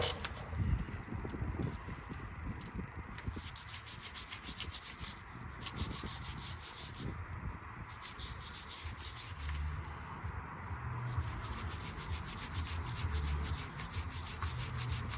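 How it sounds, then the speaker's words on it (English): Brake caliper on a Ford Focus mk2 1.6 TDCi being cleaned, a long steady scrubbing and rubbing sound with brushy strokes, close and continuous, no speech. "And now I can clean the brake caliper."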